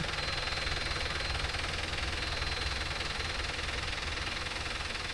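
A Mahindra Arjun Novo 605 DI tractor working a rotavator in farmland, its diesel engine running in a steady, even rumble with a knocking texture throughout, close and continuous.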